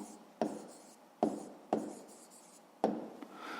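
Pen or chalk strokes writing out a fifth-grade math solution, four distinct scratchy taps and short scrapes spaced irregularly, close and quiet with no talk.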